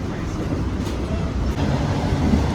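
Inside the dining car of the moving Argo Bromo Anggrek night train from Jakarta to Surabaya, a loud steady low rumble of the rolling carriage fills the space with faint rattles on top.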